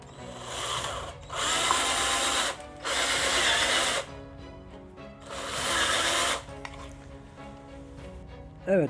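A power drill drilling a hole in a ceiling whines in three long bursts separated by short pauses, close and steady, with faint clicks and handling noise in between.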